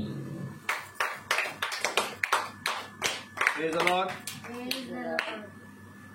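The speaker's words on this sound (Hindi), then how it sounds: "ताली बजाइए।" Congregation clapping hands at a Hindi-language Christian worship service, a run of sharp, closely spaced claps from nearby that falls into a steady rhythm while a voice calls out praise over them.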